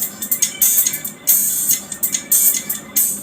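Treble-only output from a crossover EQ gives thin, hissy, sizzling high-end music with the bass stripped away, pulsing with cymbal-like bursts at a steady, fairly loud level.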